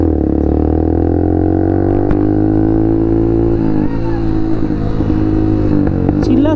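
A KTM Duke 390 motorcycle engine runs nearby with a steady, loud, low drone that rises slightly toward the end, and voices can be heard faintly beneath it.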